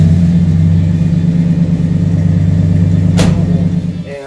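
A 1976 Chevy C10 pickup's big-block engine with a Flowmaster exhaust idles close by with a loud, deep, steady rumble, broken by a sharp knock near the end as the sound fades out.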